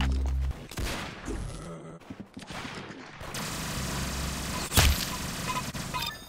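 Rapid bursts of gunfire in the Roblox shooter Arsenal, sharp repeated shots and a louder crack near the end over continuous game sound.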